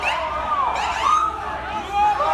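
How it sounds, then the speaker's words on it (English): An ambulance wails through a protest crowd on the Broadway Bridge in Portland, its loud wavering siren close and continuous, with crowd noise and voices mixed underneath. "Here's the ambulance is trying to get through."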